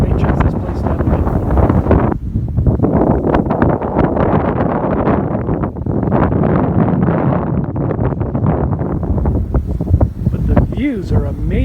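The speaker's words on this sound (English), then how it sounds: "It is really windy up here." Strong wind blasts across the open summit of the Lahaina Pali Trail on Maui, roaring and buffeting the microphone in heavy gusts, with a short lull partway through and a person speaking over the rumble.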